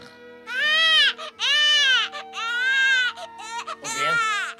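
A cartoon baby Smurf cries in long, wailing sobs that rise and fall in several loud bursts, close and clear, with a faint steady tone underneath.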